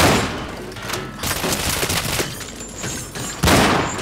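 Gunfire in the video game Cryostasis: a loud, rapid burst of shots with echoing booms and thuds, close and intense, a heavy blast near the end.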